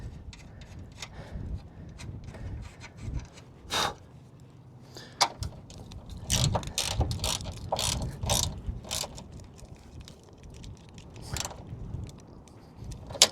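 Hand ratchet with a 12mm socket snugging the strut top nuts on a 1998-2002 Toyota Corolla, irregular bursts of rapid close clicking with short pauses and some handling knocks.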